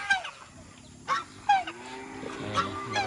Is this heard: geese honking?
yes